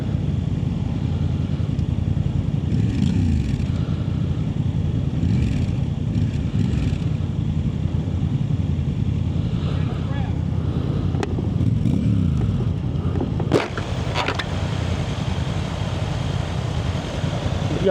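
Honda CB650R motorcycle engine pulling hard from a standstill in first gear, a steady loud drone throughout with a brief sharp spike near the end.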